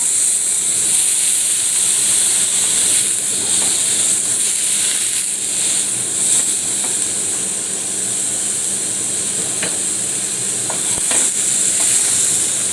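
Ox liver frying in a pan, a loud, steady close sizzle with hissing steam and occasional faint scrapes and clicks, without talk.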